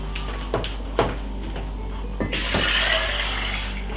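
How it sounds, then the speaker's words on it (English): Tap water running steadily into a cooking pot in a home kitchen, a continuous rushing splash with a few clunks as the pot shifts, growing fuller toward the end. "I'm going to fill it up with some water"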